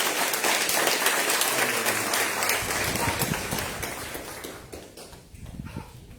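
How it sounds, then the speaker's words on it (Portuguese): A church congregation claps and applauds loudly and steadily during a service, gradually thinning and fading toward the end with a few scattered claps. "Vamos aplaudir o Senhor."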